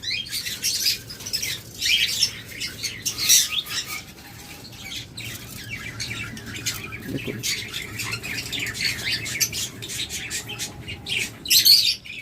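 Lovebirds squawk and chirp continuously at close range, shrill overlapping calls with occasional wing flutters, no talking.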